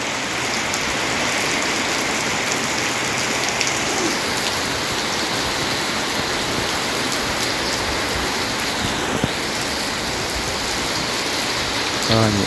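Heavy storm rain pours down steadily over rice fields, a loud dense hiss of drops hitting surfaces close by, unbroken throughout.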